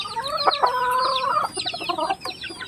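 Free-ranging backyard chickens, including a young rooster (stag), cluck and call in a rapid, close burst, with bright squawking notes and shorter clucks toward the end, with no talk.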